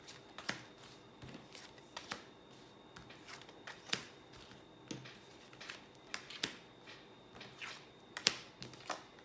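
Oracle cards shuffled for a tarot-style reading, a quiet run of crisp riffling snaps and soft slides repeating every half second or so, close to the microphone with no talking.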